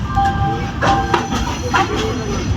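The Nellai Express arriving at Tiruchirappalli Junction, a close, steady rumble of rolling railcars with faint wheel squeals and clicks of wheels over rail joints throughout.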